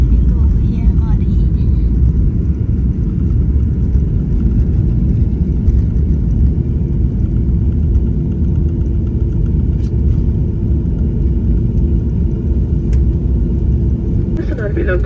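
Airliner rolling on the runway after landing, heard from inside the cabin as a loud, steady low rumble throughout, with voices talking faintly over it.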